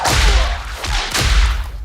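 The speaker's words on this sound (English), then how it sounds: "it was fun to see him use his old classic whip" A classic bullwhip cracks twice in an Indiana Jones action movie, sharp snaps about a second apart over loud rumbling score and effects.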